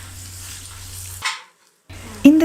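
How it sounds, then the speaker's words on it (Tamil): Onions frying with a steady sizzle in a pan, then a short silence before clattering stirring noises resume. "இந்த வெங்காயம் ஓரளவுக்கு நல்லா வதங்கணும்."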